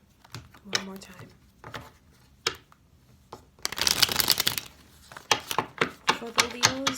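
Tarot cards being shuffled in quick riffling bursts with soft slaps between them, close and crisp, growing busier toward the end.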